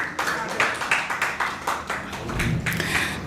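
Audience applause at a poetry open mic: a quick run of close, crisp claps from a small crowd, rippling steadily for a few seconds before tapering slightly.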